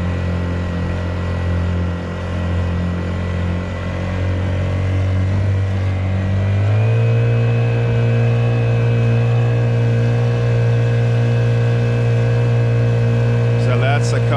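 A Honda 50cc outboard motor on a NuCanoe Frontier 12 kayak hums steadily, then its pitch steps up as it throttles higher and holds a louder, even drone.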